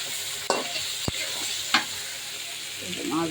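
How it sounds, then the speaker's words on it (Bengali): Eggplant and potato pieces fry with salt and turmeric in a pan, a steady sizzle broken by several sharp clinks and scrapes of a stirring spoon, with faint background voices near the end. "বেগুনটা আর আলুটা একটু ভেজে নিতে লবণ হলুদ দিয়ে"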